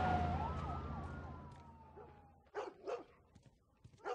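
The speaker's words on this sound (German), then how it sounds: "Hunde, die bellen in der Nacht." Dogs bark at night during an outbreak scene in the video game The Last of Us, a few sharp distant barks following a fading siren wail, with moderate, spaced-out bursts.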